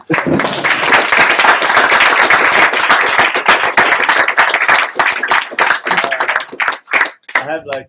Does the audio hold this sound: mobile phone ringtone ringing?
no